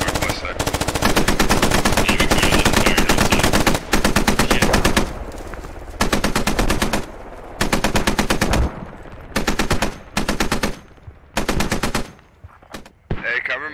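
Emplaced machine gun in the video game Squad firing long sustained bursts, loud and close, with brief pauses between strings of rapid shots that grow shorter toward the end.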